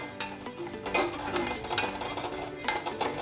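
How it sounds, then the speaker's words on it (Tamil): Keezhanelli leaves sauté in a pan with soft sizzling and the scrape of a spoon stirring, quiet and close, with occasional metallic clinks. "இந்த தழை நல்லா வதக்கிடணும்."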